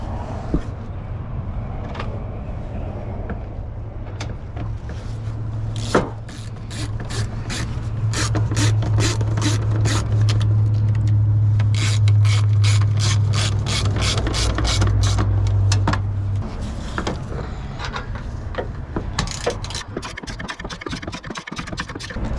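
A ratchet wrench tightens bolts while a Ford Transit engine cooling fan is reinstalled, giving long runs of rapid, loud clicking close by with brief pauses between bursts.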